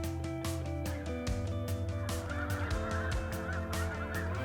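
A large flock of snow geese over Saskatchewan, loud overlapping honks in a dense, continuous chorus, with individual calls punctuating the din close by.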